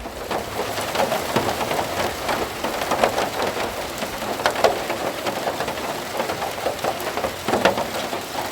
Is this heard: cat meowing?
no